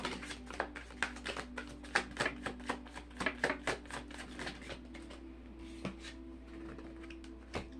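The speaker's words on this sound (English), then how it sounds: "I need to shuffle one more time." Tarot cards riffle and snap in quick, uneven bursts of crisp papery clicks, close and fairly soft, over a low steady hum.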